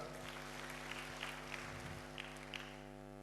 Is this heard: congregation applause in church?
yes